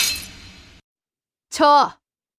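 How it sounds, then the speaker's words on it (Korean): A wine glass drops to the floor at a banquet hall, heard as a single short, bright crash with clinking fragments after a quiet pause, following a fading burst of noise. "와인잔이 바닥으로 떨어졌습니다"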